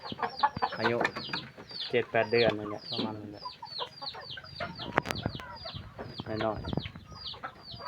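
Several chickens cluck and squawk close by in busy, overlapping bursts, while a person speaks over them.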